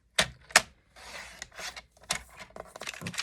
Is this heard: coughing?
no